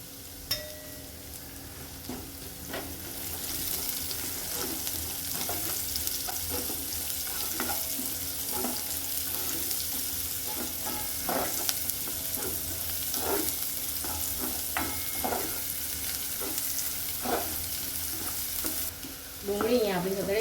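Onions fry and sizzle steadily in a pan with oil, chillies and garlic, a continuous crackle broken by frequent stirring scrapes and clinks of a spoon against the pan, close and steady throughout.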